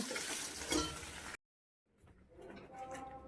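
Fish sizzles as it fries in a pan, with a loud hissing crackle up close. The sound cuts out briefly, then returns softer, with some voices in the background.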